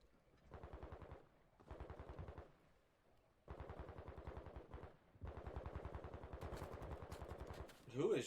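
Automatic gunfire in a Call of Duty esports match between Boston Breach and London Royal Ravens comes in several rapid bursts, each a dense rattle of quick shots separated by brief pauses.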